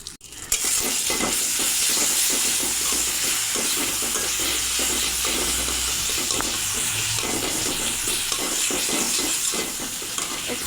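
Ground spices, turmeric, chili and coriander with chopped tomato and salt sizzle and fry steadily in a pan for a tengra fish curry with potato and eggplant, a loud continuous hiss with faint stirring and no talk.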